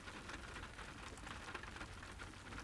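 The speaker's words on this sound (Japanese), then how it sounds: "ポツポツと窓を叩く雨" Rain tapping on windows in a visual novel video game, a steady, soft, dense patter of drops with no voices.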